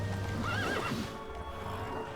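A unicorn in The Witcher 3: Blood and Wine lets out a loud, close, wavering whinny over a dense bed of game sound, with hooves clip-clopping and no voices.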